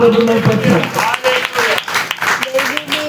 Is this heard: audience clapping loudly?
yes